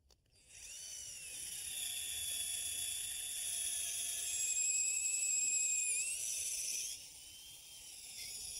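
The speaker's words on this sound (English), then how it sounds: "Now, with a pilot bit, I want to go in level." A power drill with a pilot bit bores into wood, a steady high-pitched whine that runs for about six seconds with slight shifts in pitch before winding down, close and alone.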